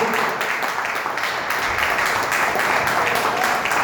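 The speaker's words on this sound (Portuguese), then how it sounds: "Vamos aplaudir bem forte ao Senhor." A church congregation applauding together during a worship service, a steady dense wash of clapping filling the room throughout without a break.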